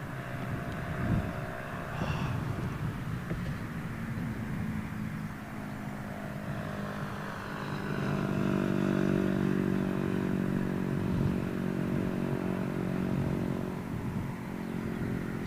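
A KLM airliner on runway 27L at Heathrow roars steadily and loudly, its broadband engine noise swelling midway and holding strong to the end, with no voices over it.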